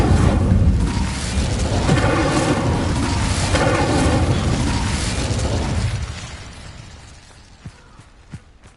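A fire spell goes off in the video game Hogwarts Legacy with a loud roaring blast of flame and crackling burst that holds for several seconds, then drops away to a quiet tail with a few small pops.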